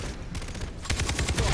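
Video game gunfire in Far Cry 3: a rapid burst of automatic shots that grows louder after the first second, close and continuous.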